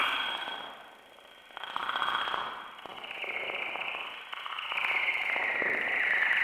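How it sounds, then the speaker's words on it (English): Gotharman Tiny Little Deformer synthesizer, using only its sample engine, produces a bright, airy shimmering tone with sweeping, swelling high resonances and soft metallic pings, moderately quiet, with no voices. "the Gotharman Tiny Little Deformer."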